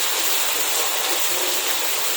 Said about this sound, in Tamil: மழை இப்போ பெய்யுது பாருங்கள்